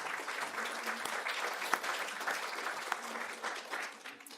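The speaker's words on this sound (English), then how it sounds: "and applauding her" Warm applause from an audience at a public library event, fairly even and moderately loud, with a few sharper individual claps standing out before it thins slightly at the close.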